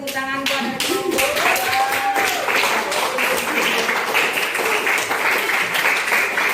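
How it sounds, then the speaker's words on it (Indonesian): A room full of people claps in steady applause, dense and continuous, with a voice speaking briefly at the start. "beri tepuk tangan kepada kelompok"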